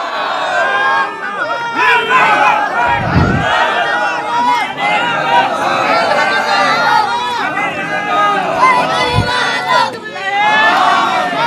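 A large crowd at a Bangladeshi Islamic sermon gathering in Rangpur roars a takbir chant in unison. The loud, massed shouting of many voices fills the space continuously, with brief deep thumps.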